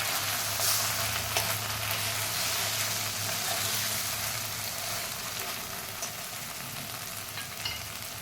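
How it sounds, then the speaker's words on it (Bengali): Mustard seeds frying lightly in oil in a pan for karela bhapa, a continuous close sizzle with faint crackling and occasional stirring scrapes, steady and fairly loud, easing slightly toward the end, no talking. "এইভাবে সর্ষেটাকে হালকা করে ভাজবো"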